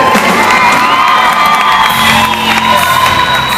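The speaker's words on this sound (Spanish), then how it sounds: "Un aplauso para él." Concert audience cheering and whooping for a band member at a live rock show in Quito, a loud continuous roar of crowd voices with shouts rising above it.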